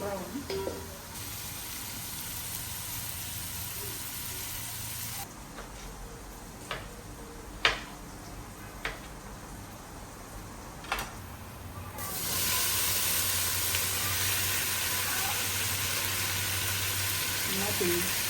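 Onions frying in a pan for sukuma wiki in a village kitchen, a low steady sizzle broken by a few sharp clicks and knocks midway, then a louder, brighter frying hiss for the last several seconds.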